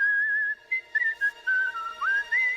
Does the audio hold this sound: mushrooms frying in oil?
no